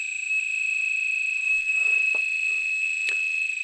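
Steady piezo buzzer tone near 2.5 kHz driven by an Arduino, a continuous loud pure whine held throughout, with faint clicks and small noises beneath it.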